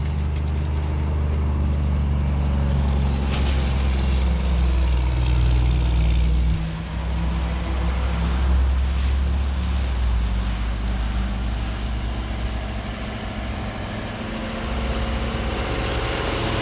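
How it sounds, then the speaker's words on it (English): A dump truck raises its bed and tips a load of gravel onto a steep gravel road, its engine droning loud and steady throughout with a brief dip partway through as the load slides out. "now we're just going to raise that bed and drop load number 2"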